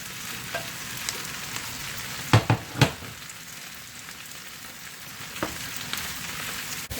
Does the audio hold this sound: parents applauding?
no